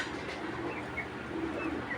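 Soft, steady cooing from Giribaz pigeons of an old beji breed kept as a collection, a continuous murmur of coos filling the short stretch with no talking.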